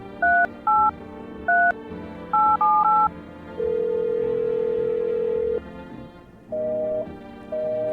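Phone number punched in on a telephone keypad in the video game No I'm Not A Human: quick separate beeps, then a long held tone, a short pause and more tones, loud and close with no voices.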